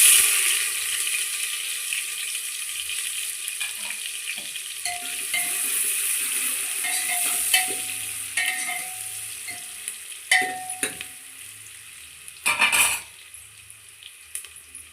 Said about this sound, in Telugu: ఉల్లిగడ్డ ఇలా చిన్న చిన్న ముక్కలుగా కట్ చేసి వేసుకోవాలి